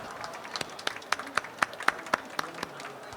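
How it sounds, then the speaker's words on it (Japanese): A seminar audience applauding, with scattered claps forming a loose, uneven rhythm over a faint room background, individual hand claps standing out rather than a dense roar. "皆様ぜひ拍手をお願いいたします。"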